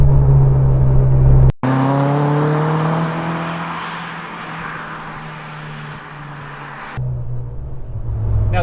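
A 2001 VW Golf 1.8T race car with factory turbo drives on track, its engine droning loud and close, then revving and shifting in rising tones and a short cut, with no talk.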